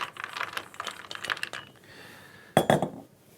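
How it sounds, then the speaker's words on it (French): Chocolate chopped with a knife on a board, a run of quick crisp clicking cuts, then a pause and a short louder burst of chops, close with no talk. "on va commencer par hacher le chocolat"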